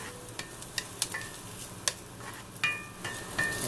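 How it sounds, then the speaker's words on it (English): Onions sizzle and fry in a pan, a soft continuous crackle with scattered sharper pops and light stirring scrapes, no voices. "Those onions are starting to sweat"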